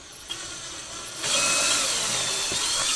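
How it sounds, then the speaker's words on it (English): A power drill whirs quietly, then revs up to a loud, steady high-pitched whine as it bores a pilot hole while fitting a guitar pickguard, running continuously without pause. "Let's do a little pilot hole."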